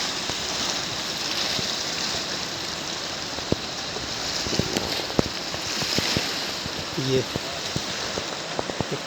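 The flooded Indus River rushes past in a broad, constant roar of fast water, with a voice talking over it now and then.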